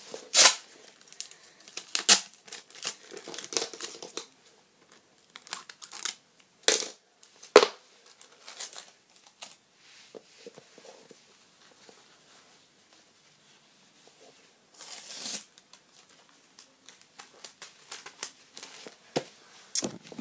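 Material is folded and taped into a doll bed for a Monster High doll, producing close, intermittent crinkling, crunching and tearing bursts separated by quiet pauses.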